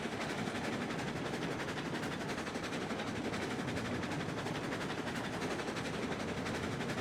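Train running on rails in Railroads Online, a dense steady rumble with a fast rhythmic clatter throughout, loud, close and unbroken, with no talking.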